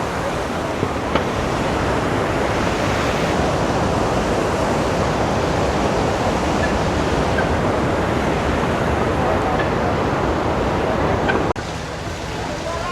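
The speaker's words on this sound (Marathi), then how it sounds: "मंदागिनी नदी" The Mandakini river rushes along the Kedarnath to Gaurikund trek route near a bridge, a steady, loud broadband roar of flowing water that fills the whole clip with no pauses, dipping slightly near the end.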